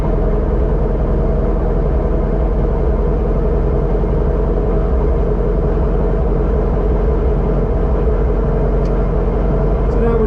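A Guimbal Cabri G2 helicopter engine idles at 1100 RPM, a loud, steady, even drone close by with constant mechanical hum and no clear changes throughout.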